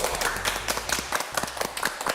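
Audience clapping in a Korean early-childhood-education talk segment, a short burst of distinct, fairly close hand claps in an uneven quick rhythm, with the sharp individual slaps clearly audible.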